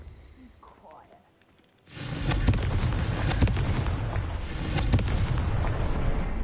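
A Confringo fire spell is cast in the Hogwarts Legacy video game, bursting in after a near-silent pause as a loud, sustained explosive crackle and rumble with sharp booming hits throughout.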